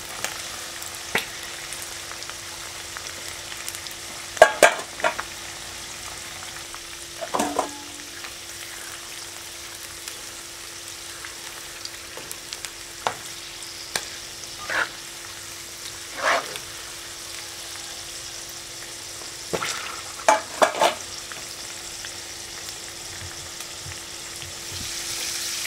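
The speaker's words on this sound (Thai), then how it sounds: "ตอนเราทอดมันอาจจะกระเด็นนิดนึงต้องระวังให้ดีนะครับเพราะว่าบางทีมันมีน้ำอยู่ในไส้เราไม่ได้ผึ่งให้แห้ง" Pork intestines deep-frying with garlic in oil, a low steady bubbling hiss broken by scattered sharp pops and spatters, close by and without talk.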